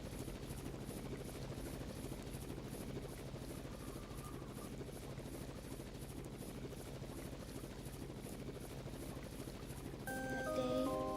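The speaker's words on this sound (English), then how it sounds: "Heading up the stairs, we can hear the helicopter." Helicopter in the video game Raw Danger, a faint steady rotor drone throughout, with a brief louder burst of game sound at the end.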